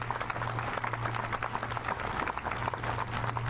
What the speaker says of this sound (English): Let's give them, and back there, a huge, huge round of applause.